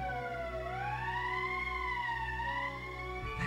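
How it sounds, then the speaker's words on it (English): A wailing emergency siren in the Valkyria Chronicles game rises and falls in slow sweeping pitch over a low steady drone. It sounds loud and continuous for about three seconds, then cuts off abruptly. "That's the emergency siren."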